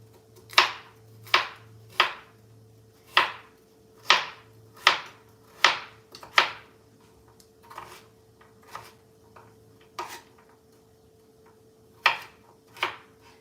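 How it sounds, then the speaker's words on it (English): A knife strikes a cutting board in a series of crisp, close chops while food is cut for cooking, irregularly spaced with short pauses and a steady low hum underneath. "the most time-consuming part is just cutting"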